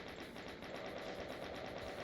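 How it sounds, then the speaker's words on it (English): Rapid, steady chain gun fire in Doom (TNT), a continuous rattling stream of evenly spaced shots holding at a constant level throughout with no pauses. "so we'll use the chain gun to take them out as well."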